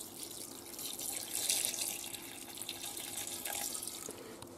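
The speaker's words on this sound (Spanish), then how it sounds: "y cubrimos de agua" Tap water runs steadily into a kitchen pot holding lentils and blood sausage, a soft, even hiss and splash heard alone at close range.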